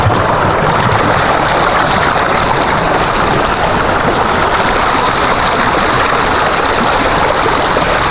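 Mountain stream water rushes steadily through rural highland countryside, a loud, close, unbroken wash of flowing water with no voices.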